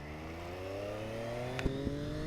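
A 2020 Triumph Daytona Moto2 765 limited-edition sport bike engine pulls away, its steady rising tone climbing in pitch under acceleration, close and loud, with a couple of brief knocks partway through.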